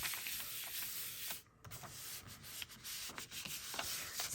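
A sheet of paper is rubbed by hand onto a gel printing plate inked with alcohol ink, giving continuous soft scuffing strokes close by, with one short pause partway through and no voices.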